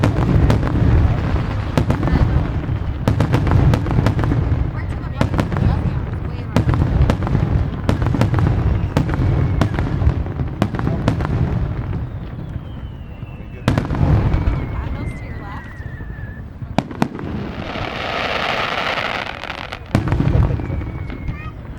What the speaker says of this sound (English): there's a fireworks tonight